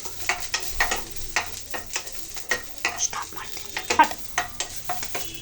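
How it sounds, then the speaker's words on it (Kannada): Frying in a pan with oil while making egg biryani, a close crackling sizzle overlaid by brisk, rhythmic stirring scrapes of a spoon against the pan, repeated throughout, with no talking. "ಸ್ವಲ್ಪ ಫ್ರೈ ಮಾಡೋಣ"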